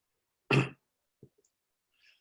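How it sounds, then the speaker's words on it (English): A single sharp cough close to the mic, followed by a couple of faint small clicks and a soft rustle. "I'll blame the smoky air on my cough"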